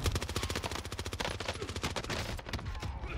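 Rapid automatic gunfire from Call of Duty Warzone rattles in a dense, steady burst lasting about three seconds, with no talk over it.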